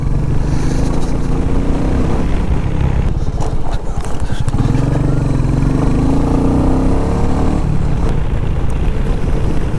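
Royal Enfield Meteor 350 motorcycle being ridden, a loud steady engine drone with wind rush and road clatter throughout, briefly shifting tone midway.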